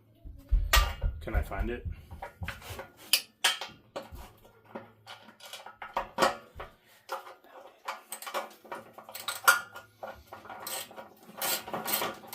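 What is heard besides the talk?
rummaging through a socket set for an extension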